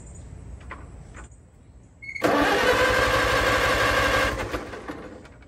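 A 1964 Farmall 140 tractor cranks at half throttle, then its engine catches and roars loudly into a steady run before easing off slightly near the end.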